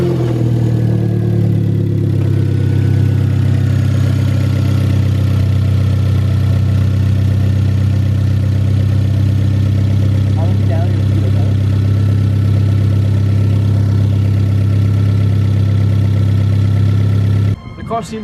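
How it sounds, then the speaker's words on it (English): A Hyundai Genesis Coupe 2.0T turbo engine idles steadily and loud with a deep, even drone, just repaired after a turbo oil feed line leak, cutting off abruptly near the end. "The car seems to be running smoothly once again."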